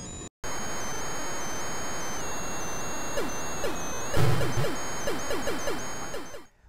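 Original ColecoVision video game audio: steady electronic beeping tones with short chirping blips, then a brief noisy burst and a string of rapid descending zaps.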